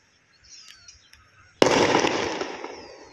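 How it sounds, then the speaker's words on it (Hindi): A firecracker set off outdoors during a falcon attack on high-flying pigeons goes off with one sudden loud bang that trails into a crackling, fading burst over two seconds. Faint chirps come just before it. "और ये देखिए पटाखा भी छोड़ा है"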